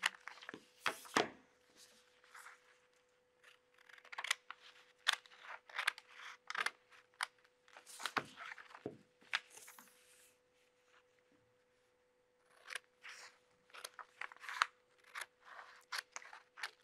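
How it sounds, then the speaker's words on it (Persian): Scissors cutting around a paper skirt pattern, close and crisp, in irregular bursts of snips separated by short pauses. "دور تا دور کار رو قیچی میزنم"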